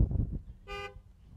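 A car horn gives a single short, bright honk that stands out briefly over a low background rumble.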